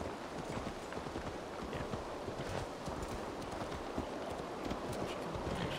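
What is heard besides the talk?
horse hooves clip-clopping in the video game Assassin's Creed Valhalla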